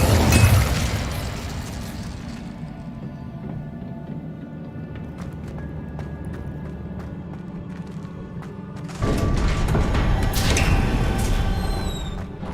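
Spell effects from the video game Hogwarts Legacy: a loud burst at the start, then a sustained crackling roar with scattered pops, swelling into a second loud surge near the end, alone without talk.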